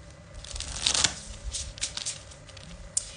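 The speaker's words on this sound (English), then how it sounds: "one more shuffle." A deck of tarot cards being shuffled close by, a few quick riffling bursts with a louder flurry early on and lighter taps afterward.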